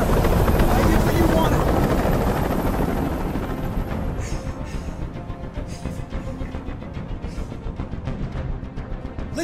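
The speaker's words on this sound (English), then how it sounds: "I can't stand that noise anymore! Tell that helicopter to get out of here!" A helicopter in the video game Detroit: Become Human hovers nearby during a rooftop hostage standoff with a rapid, throbbing rotor chop, loud at first and easing slightly, while voices speak over it.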